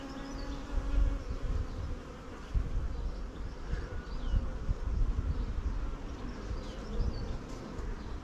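Honey bees crowd a Flow Hive frame during an inspection, a dense, close, continuous buzzing that swells and dips slightly, with no voices.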